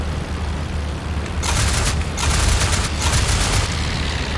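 WWI fighter plane machine guns fire in dense, sustained bursts during a 1916 dogfight in the IL-2 Flying Circus game, loud and continuous over a steady engine drone, with no voices.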